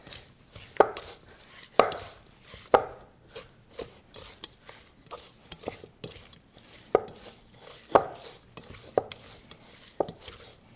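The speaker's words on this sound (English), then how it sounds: "now we're just gonna use a rubber spatula to mix this up and get everything evenly coated" Pork belly gets mixed in a bowl with a rubber spatula, a series of irregular soft thuds and scraping knocks, close and moderately loud, with short pauses between strokes.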